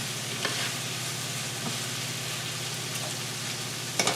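Garlic sizzles in a pan of softening noodles, a steady crackling fry close by with a few scraping stirs, no voices.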